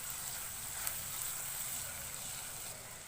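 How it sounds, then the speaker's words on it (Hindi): Whole cumin, cardamom, cinnamon, cloves and black pepper fry with onions in a pan, a faint, steady sizzling hiss throughout with no voices. "हल्का सा इनको भी प्याज के साथ फ्राई करेंगे।"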